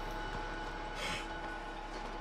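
A train in Red Dead Redemption 2 rumbles along near the town of Saint Denis, a steady rolling drone with a brief brighter swell midway and no voices.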